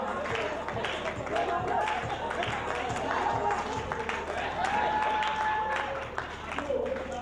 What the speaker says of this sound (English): Keep on clapping till he step on stage.